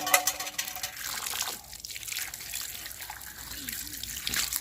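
Shing fish are washed by hand under running water. The water trickles and splashes steadily with some small sloshing, and a faint voice is heard under it.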